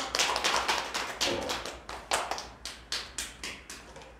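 Sparse clapping from a small audience at a meeting in a Korean university centre, welcoming the next presenter; roughly a dozen distinct, moderately close hand claps in an irregular rhythm, with no talking.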